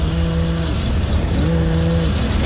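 A race car sits on the start line at the Gundy 500 with its engine running loudly, a steady buzzing drone that shifts in pitch partway through.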